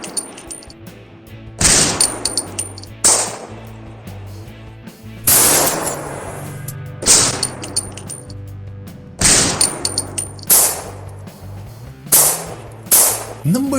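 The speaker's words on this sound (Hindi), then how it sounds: "ये दरवाजा पिस्टल और राइफल की हर तरह की गोलियां बर्दाश्त कर सकता है।" Several loud, sharp pistol and rifle gunshots ring out at irregular intervals, each cracking and then decaying with echo, with no voices.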